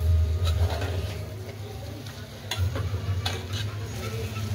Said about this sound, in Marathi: आता हळूहळू आपण पाणी ओतून घ्यायचं